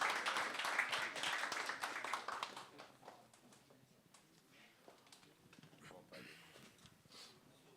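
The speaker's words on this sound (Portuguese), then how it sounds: "Uma salva de palmas para eles, pessoal" Audience applause at a Brazilian proptech customer-experience panel, a burst of clapping that fades after a few seconds into scattered claps and murmuring voices, all fairly faint.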